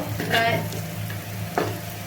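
Potato and pumpkin pieces fry in hot oil with a close, continuous sizzle. A couple of stirring scrapes rise above it.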